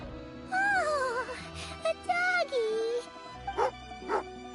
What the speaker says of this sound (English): a doggy.